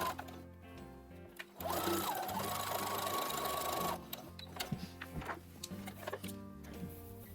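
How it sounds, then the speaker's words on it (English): A sewing machine runs in one steady burst of stitching, top-stitching and double-stitching the sleeve cuffs of a Star Wars jumpsuit. Quieter handling noises come before and after the burst, and no one speaks. "we're just going to stitch a top stitch and a double stitch."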